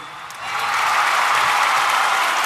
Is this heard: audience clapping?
yes